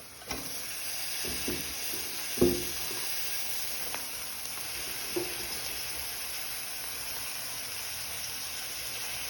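Spinach leaves dropped into a hot pan for a spinach and jackfruit seed thoran, giving a steady, fairly close sizzle and hiss with a few soft clicks and stirring knocks early on, no talk.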